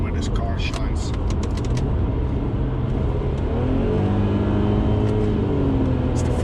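An Audi A4 2.4 V6 with a manual gearbox accelerates while being driven, its engine note a steady, continuous drone under constant road and wind noise, with a few faint clicks early on.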